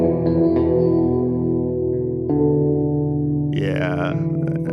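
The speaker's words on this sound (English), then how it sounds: "We're looking about an 8-second tail on that reverb" Synth notes ringing through a long convolution reverb tail, sustained layered tones that smear and linger, with a brighter new chord swelling in near the end.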